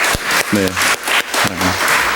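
Church congregation clapping in encouragement, short bursts of applause with a voice briefly speaking over it twice during the two seconds.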